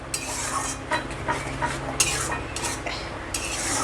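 Sour curd with spices being stirred and fried in a pan for mutton kosha, a utensil scraping and clinking against the metal in steady repeated strokes over a continuous close sizzle, with no talking.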